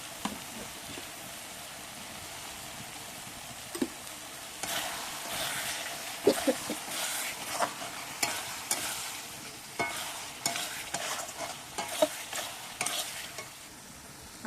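Tomato and spices are stirred and fried together in a pan, making a soft sizzle broken by a run of irregular scraping strokes from the spoon, close and moderately quiet.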